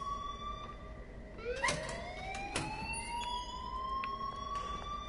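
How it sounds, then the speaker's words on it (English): A wailing siren-like alarm rises and falls in pitch within the Life Is Strange video game, loud and continuous throughout with no one talking over it. "And please turn off the alarm since that's your job."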